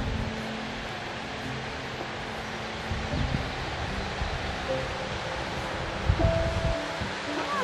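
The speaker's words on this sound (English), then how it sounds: "Listen, it's right there. The waterfalls is right there." A waterfall in a natural spring setting gives a steady, broadband rush of falling water throughout, with faint wind and rustle mixed in and a brief louder surge near the end.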